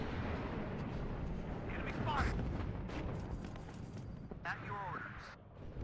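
Dragon anti-tank missiles firing in the Warno war game, muffled booms and launches amid a dense rumbling battle backdrop, with someone speaking over them.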